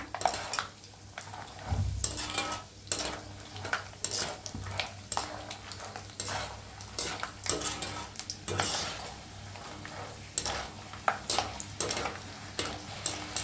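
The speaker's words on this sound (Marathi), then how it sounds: "शेंगदाणे एक वाटी घेतलेला आहे त्याला बी चांगलं असं तळून घेऊया चांगलं क्रिस्पी उस्तर छान असं तळून घ्या" Peanuts frying in oil for poha chivda, a low sizzle under frequent rhythmic clinks and scrapes of a metal spoon stirring in the pan.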